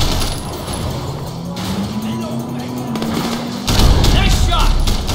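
Gunfire in the Sleeping Dogs action game rattles out in bursts over a droning car engine during a chase, growing louder and denser near the end, with voices talking over it.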